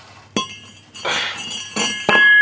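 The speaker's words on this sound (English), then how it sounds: "And we'll take the rotor out." Metal clinks and scrapes as a front brake rotor is pulled off a 1998 Chevy Lumina: a sharp clank followed by several ringing metallic knocks and rattles, close up, with no talk.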